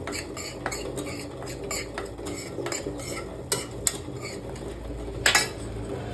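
Wheat flour frying in ghee while a metal spoon stirs and scrapes it around the pan in steady repeated strokes, close, with sharp clinks against the pan and a faint sizzle underneath.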